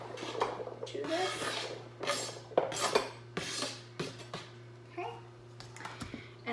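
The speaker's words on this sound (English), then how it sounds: "So I'm gonna go ahead and add in my 2 cups of onions to this." Two cups of chopped onions scraped and tipped into a soup pot, a series of rustling scrapes and light clinks against the metal, close, with a steady low hum underneath and some speech.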